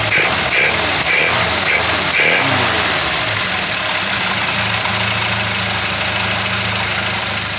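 Car engine with a carburetor that just backfired, a few sharp pops at the start then a loud, steady idle with a low rumbling pulse, close up and continuous.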